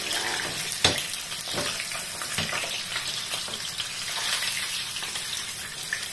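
Fish frying in hot oil crackles and splatters steadily, a dense close sizzle with sharp pops and occasional stirring clacks, no talking.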